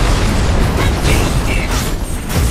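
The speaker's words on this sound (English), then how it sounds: "Your team has destroyed a tower." Loud explosive crumbling as a tower is destroyed in Arena of Valor, a dense roaring burst of game effects and booms that fills the whole moment with no voices.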